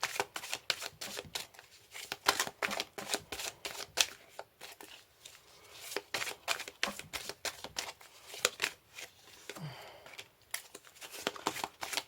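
Tarot cards handled, shuffled and flipped on a table, producing many crisp, close papery slaps and riffles in a quick irregular rhythm with brief pauses between bursts.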